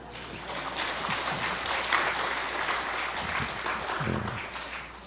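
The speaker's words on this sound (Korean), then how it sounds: "손뼉치라고 절대 안 했습니다" A church congregation claps steadily during an afternoon worship service, a dense, sustained round of applause filling the room for several seconds.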